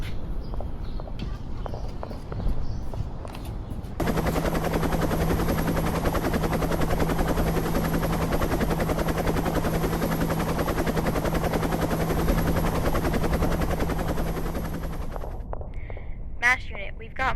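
A helicopter arrives in a school history project on a M*A*S*H field unit, its steady loud rotor roar and engine hum filling the scene for about eleven seconds after voices and scuffling, then cutting off.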